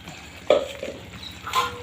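Crushed sesame, coconut and poppy seeds are stirred in a pan over a gas flame, with a couple of close scraping swishes over a faint background hiss, brief and without talk.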